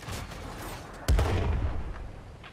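A single tank cannon shot in World of Tanks, one sharp, heavy boom roughly midway through that rumbles and decays slowly against low background noise.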